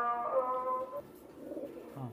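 A blue pigeon in a breeding pair coos softly nearby, a short throaty call followed by a lower fainter murmur.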